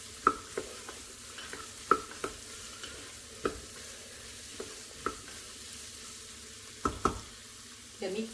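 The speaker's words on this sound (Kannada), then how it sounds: "ಕಪ್ಪು ಕಡಲೆ, ಗೋಬಿ ಹಾಗೂ ಕ್ಯಾರೆಟನ್ನು ಹಾಕಿ ಒಮ್ಮೆ ಮಸಾಲೆಯಲ್ಲಿ ಮಿಕ್ಸ್ ಮಾಡ್ಕೊಳ್ಳೋಣ" Black chickpeas, cauliflower and carrot tossed into masala in a pot for dal khichdi, with spaced spoon knocks against the pot over a faint sizzle, quiet and close with no talking.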